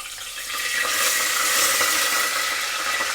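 Whole spices for Telangana bagara rice hit hot oil and set off a sudden, close, steady sizzle that stays loud and bright, with no talking.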